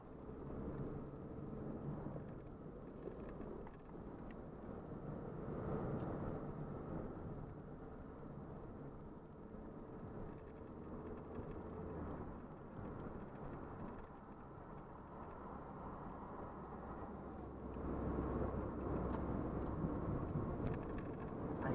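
A Peugeot 405 TD turbodiesel cruises on the motorway, a continuous low engine drone and road rumble heard from inside the cabin, swelling louder toward the end.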